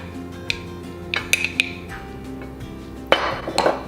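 Plating shrimp and couscous cooked in a dishwasher brings sparse clinks and taps of utensils against dishes, a few isolated knocks followed by a louder cluster of scraping clatter near the end, with no talking.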